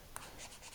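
A pen scratches across paper while working a titration calculation, a few faint, short strokes with a tiny tap, quiet and close with no voice.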